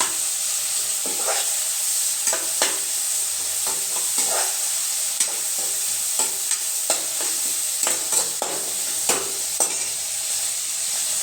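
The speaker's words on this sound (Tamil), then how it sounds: "இப்போ தான் தக்காளி ஃபுல்லாக வதங்க அளவுக்கு வதங்கணும்." Tomatoes sautéing in a pan for sambar give a steady sizzle, broken by frequent scraping stir strokes throughout, close and fairly loud with no talking.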